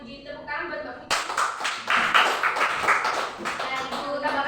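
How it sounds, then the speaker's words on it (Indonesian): A classroom of students claps for a classmate who answered a chemistry question, the clapping starting abruptly after a teacher's voice and continuing as a close, steady patter. "Tepuk tangan buat Mbak Puji."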